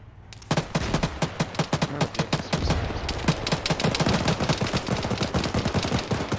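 A vehicle-mounted gun in the Arma 3 combat game fires dense, rapid bursts of loud, sharp shots in quick rhythmic succession that continue almost without pause for several seconds.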